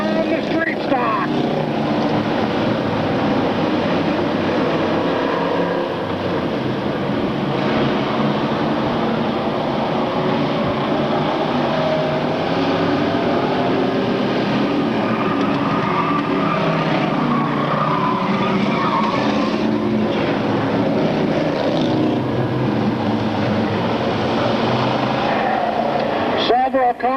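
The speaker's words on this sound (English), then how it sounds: "Out of turn number 4, here come the street stock." Street stock race cars roaring out of turn four at a 1996 oval race, a dense, continuous wash of engine noise with crowd and track ambience, steady and fairly loud the whole way.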